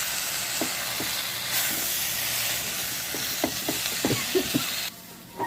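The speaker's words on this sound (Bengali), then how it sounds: "এবার দিয়ে দেবো ভেজে রাখা আলু, দিয়ে আমি ভালোভাবে কষিয়ে নেব।" Jackfruit and fried potatoes are sautéed in a hot pan, oil hissing steadily while a spatula scrapes and taps the pan in quick irregular strokes, close up and without talk.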